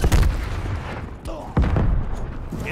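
A molotov is thrown in Call of Duty Black Ops Cold War on the Nuketown 84 map, a sharp whoosh and burst among loud booming gunfire and explosions, with game voice callouts between.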